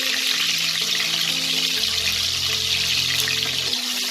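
Loud, steady sizzling of salted, turmeric-coated potato halves frying in hot mustard oil, a dense crackling hiss throughout with a low hum underneath and no talking.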